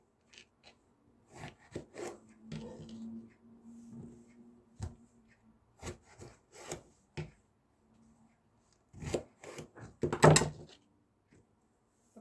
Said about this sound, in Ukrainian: Баклажани відрізаємо фостик і ріжемо на такі шматочки, які вам подобаються.